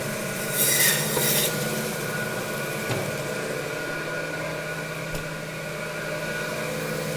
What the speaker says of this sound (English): We'll move to our saw, our trusty butcher boy. First thing we want to do is break the shoulder off.